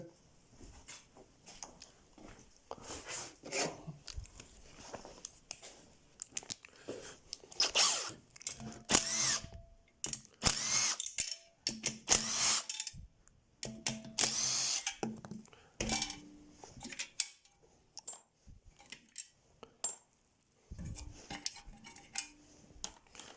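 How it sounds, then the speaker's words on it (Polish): A socket wrench with an 8 mm socket works loose the screws of a cover on a Briggs & Stratton E500 engine, giving intermittent metallic ratcheting, clinks and clatter of small parts in bursts close by, with no talking. "Teraz odkręcę to osłonę na nasadkę ósemkę."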